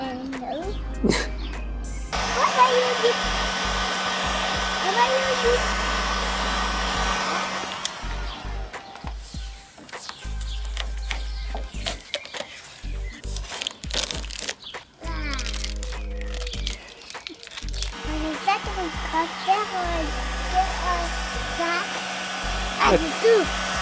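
A heat gun blows hot air in a steady broadband roar that runs in long stretches, switching off and on between bursts, during work on a Mini Cooper S Camden city car, with crinkling handling noises and people talking.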